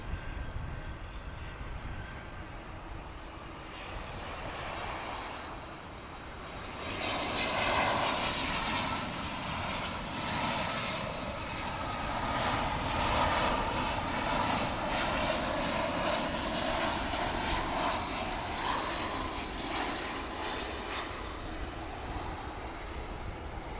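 A fixed-wing airliner arrives at DFW Airport, its engine roar rising from a distant rumble to a steady, broad drone that holds for many seconds before slowly fading.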